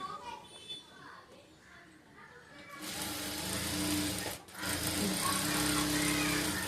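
A sewing machine stitching a blouse lining to saree cloth runs in a loud, steady whir for several seconds after a quieter start, with a brief pause midway, while someone talks in the background.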